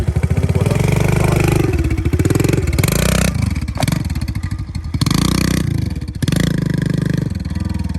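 A Kawasaki KLX motorcycle revs hard through a wheelie and then brakes, the loud close engine note rising and dropping in repeated surges with brief cuts and clatter between them.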